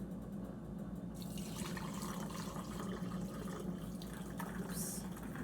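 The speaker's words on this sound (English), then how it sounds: "So I take my handy dandy strainer, pop it over top of my mug, just pour in a little bit." Ginger lemon tea poured through a strainer into a mug, a continuous soft trickle and splash of liquid that grows fuller partway through, with no voices.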